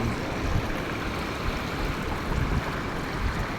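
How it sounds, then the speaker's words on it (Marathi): A river running strongly on the Ganga bank produces a dense, continuous rushing wash of water, steady and fairly loud throughout with no voices. "आणि पाण्याचा प्रवाह जास्त वाढवला आहे."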